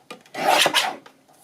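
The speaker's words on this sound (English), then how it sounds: "I'm going to trim that off a little bit" Paper for a journal is trimmed with a short, close rasping cut lasting under a second, heard alone with no talking.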